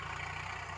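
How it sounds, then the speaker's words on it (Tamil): A farm vehicle ploughing among coconut trees, heard as a steady, droning engine hum at moderate distance, continuous and unchanging through the short stretch. "வண்டி உழுதுகிட்டு இருக்கு"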